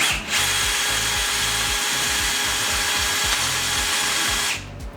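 A power drill whirs steadily and loudly, its motor pulsing as the bit grinds through the material, then winds down near the end.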